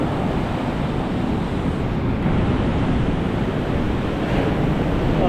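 Waves wash continuously onto the main beach at Phu Quoc, Vietnam, in the off-season, a steady broadband surf roar mixed with wind buffeting the microphone, loud and unbroken.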